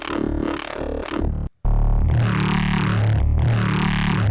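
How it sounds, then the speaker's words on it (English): Growling, harsh Serum wavetable synthesizer tones from spectral wavetables, with morphing, sweeping timbres, a brief gap, then a loud throbbing wobble that pulses rhythmically. "Serum has these really cool wavetables under spectral"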